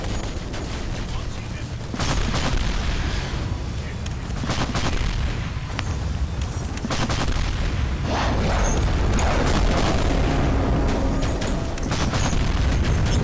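In the video game Planet Commander, shelling and gunfire keep up a continuous rumbling barrage of booms and rapid shots, loud and unbroken throughout.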